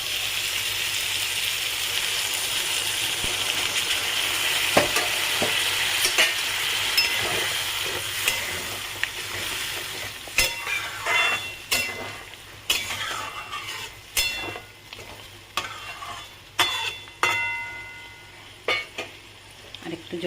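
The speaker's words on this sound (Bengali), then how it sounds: "এবারে আমি জলটা দিয়ে দেবো এতে।" Water is poured into a sizzling, oil-separated curry masala, and the strong steady hiss of the frying fades into a run of sharp clinks and scrapes as the pot is stirred, close by with no voices.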